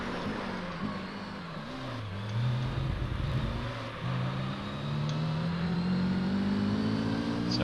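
A race car engine in the Gran Turismo 3 video game drones steadily, dipping as it shifts and then climbing again in pitch through the gears, heard close behind a Toyota Supra.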